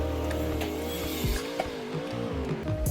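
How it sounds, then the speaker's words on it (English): A Dodge Challenger in the Roblox game CDT gives a steady, loud engine drone with wavering pitch, with a few thuds and bumps over it and no talking. "the Challenger sleigh sounds exactly like the monster trucks"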